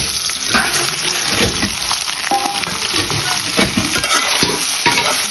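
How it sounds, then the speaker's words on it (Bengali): Soaked, squeezed soy chunks frying in oil in a wok sizzle loudly and close, while repeated stirring scrapes and clatters through the oil with no talking. "এখন আমি এগুলা তেলে ভাজবো"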